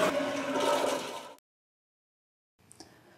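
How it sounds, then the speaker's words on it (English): Toilet flush with a loud rushing swirl of water for over a second, cut off abruptly, then silence and a faint trickle of refilling water. "Gently remove the tissue paper liner from the cardboard and flush down the toilet."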